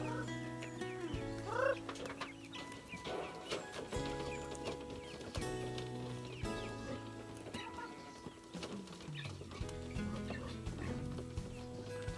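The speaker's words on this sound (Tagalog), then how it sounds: "Ngayon naman ay magpakain po ako sa aking mga alagang manok." Rhode Island chickens at feeding time, with scattered clucks and bird calls over a busy farmyard background, joined by tonal hum and occasional knocks throughout.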